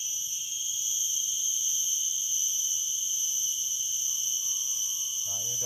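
Crickets chirp in a steady, continuous high drone at a quiet riverside fishing spot, with no talk.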